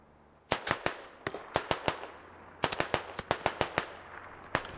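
Rapid distant gunfire from the video game Squad, sharp cracks in irregular bursts and short volleys, some single shots and some tight clusters, no talk over it.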